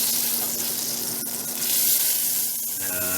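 Fat melts in a pan while making chicken and biscuits, giving a continuous soft sizzle with light crackles and a brief tap partway through.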